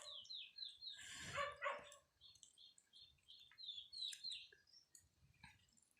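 A dog lets out a short burst of barks outdoors, loud and fairly close, while small birds keep chirping through the rest of the scene.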